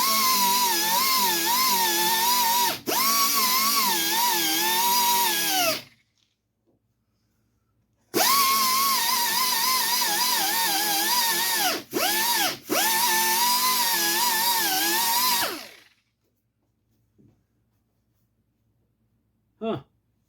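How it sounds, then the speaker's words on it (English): A power tool grinds body filler off a 1970 Datsun 510 body in two long, loud, steady bursts, each several seconds, with a short gap between them and near silence afterward. "the first thing I got to do is clear away the body filler from the area that I'm welding"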